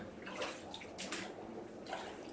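Floodwater washing and splashing through the entrance of a flooded house in Venice, a steady watery rush at close range that swells in a few louder surges, with no talk.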